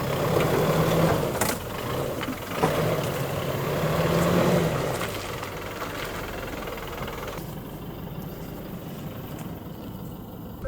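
Engine of a Toyota Hilux pickup driving out of a roadside ditch, a steady low rumble with louder surges in the first few seconds that settles into an even drone, heard fairly close with no talking.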